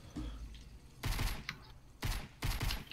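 Gunfire in the video game Fortnite comes in three loud, short bursts spaced about a second apart, with quieter background noise in between.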